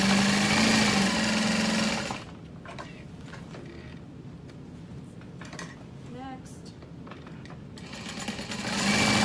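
A sewing machine stitching across the top of a leather clutch wallet, a short rapid whir at the start and again at the end, with quieter handling sounds between.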